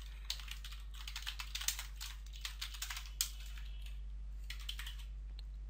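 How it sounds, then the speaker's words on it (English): Someone types on a computer keyboard, quick irregular bursts of soft key clicks near and fairly faint over a low steady hum, with no talking. "let me just type it."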